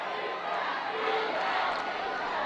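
A large stadium crowd roars in a steady, dense wash of cheering at the 2016 SIAC Football Championship between Fort Valley State and Kentucky State, holding at a constant level throughout with no clear breaks.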